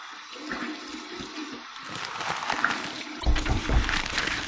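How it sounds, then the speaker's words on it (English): Cold water runs and splashes in a sink as a face is rinsed after shaving, an irregular gurgling flow that grows louder and sloshier toward the end. "Okay, cold water rinse."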